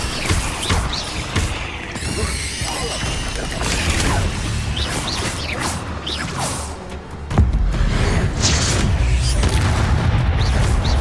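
The Incendio fire spell in Hogwarts Legacy, a roaring burst of flame and booming impacts within dense, loud game effects, with whooshes and crashes running throughout and a heavier surge near the end.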